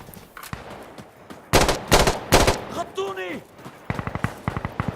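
Gunfire in the video game Insurgency Sandstorm: loud, close single shots and short bursts, then a rising whistle-like sweep and a quick series of rapid shots at the end.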